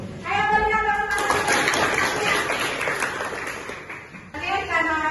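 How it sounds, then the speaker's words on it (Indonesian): A classroom of students claps together after a group presentation. The burst of applause fills the middle of the clip, with a teacher's voice speaking just before and after it. "Ayo berikan tepuk tangan."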